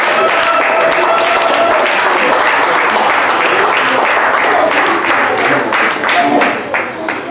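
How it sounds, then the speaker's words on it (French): Church congregation at a New Year's Eve vigil applauding for Jesus, loud sustained clapping with rhythmic claps standing out, voices mixed in, easing slightly toward the end. "On peut applaudir le Seigneur Jésus."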